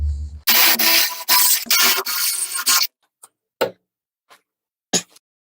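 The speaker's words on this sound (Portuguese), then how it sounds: "Eu vou usar agora uma broca de 9 milímetros de vidia para poder abrir o furo" A 9 mm carbide drill bit bores a hole in wood for shelf supports, with a loud, rough grinding burst lasting a couple of seconds, followed by a few sharp, isolated clicks and knocks.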